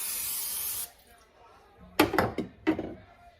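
Cooking spray hisses onto a baking dish for glazed apple dumplings in one close, steady burst lasting under a second, followed by a voice talking.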